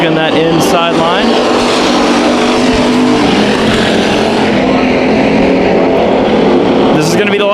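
Hobby stock race cars roar around the Bakersfield Speedway oval in a heat race, engines loud and continuous with cars passing close by as an announcer talks over the noise.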